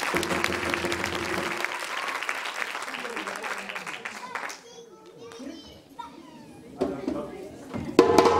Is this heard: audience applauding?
yes